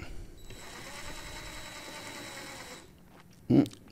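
A powered driver runs a screw in to mount a lubrication pump electric motor, a steady mechanical whir lasting about three seconds, then a brief louder thump as it seats.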